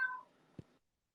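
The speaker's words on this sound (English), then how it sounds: "That was one meow." A single short cat meow plays from a recording, faint and thin, followed by a soft thump and then silence.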